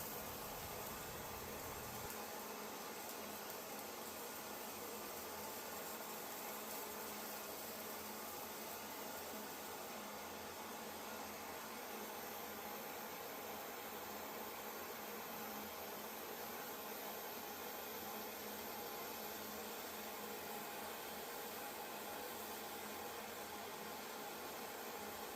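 A propane torch roars steadily while heating a copper fitting for soldering during replacement of plumbing angle stops, a continuous broadband hiss that is close and loud and runs unbroken for the whole stretch with no talk.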